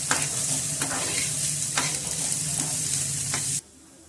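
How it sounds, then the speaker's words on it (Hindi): Chopped onion, capsicum and carrot sizzle steadily in a hot pan while being stir-fried, with a few scraping strokes of the spoon rising above the constant frying hiss before the sound drops away abruptly near the end. "इनको भी थोड़ा सॉफ्ट होने तक भून लेते हैं"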